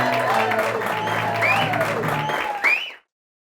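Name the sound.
audience applause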